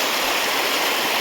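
Water rushes at a waterfall and mossy, slippery stream near Krem Chympe in the East Jaintia Hills, a steady, dense, close hiss of flowing water with no voices.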